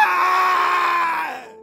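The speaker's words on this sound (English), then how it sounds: "Then I heard him scream hard." A man lets out a single loud, sustained scream lasting under two seconds, strained and tonal, fading out at the end, a horror sound effect.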